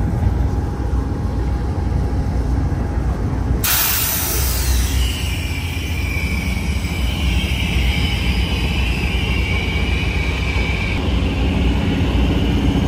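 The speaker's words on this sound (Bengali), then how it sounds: "এটা হচ্ছে ডিজেল লোকোমোটিভ ইঞ্জিন, সিমেন্সের তৈরি, বিশাল এক ইঞ্জিন।" A large Siemens-built diesel locomotive, running double-headed on a hill route, roars as a steady, loud broadband rumble with a sudden burst of hiss partway through, continuing alone without talk.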